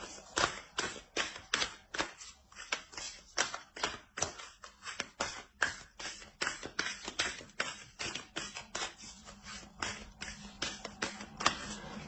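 Oracle cards are shuffled in quick riffling bursts, a rapid run of crisp paper slaps and flicks at close range that keeps an uneven rhythm throughout, with no talk.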